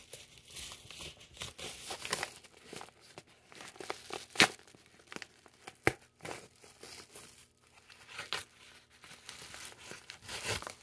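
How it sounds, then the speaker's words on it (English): Paper envelope holding trading cards torn open by hand, steady crinkling and crackling with a few sharp tearing rips, close and fairly quiet with no talking. "Here is the envelope opening."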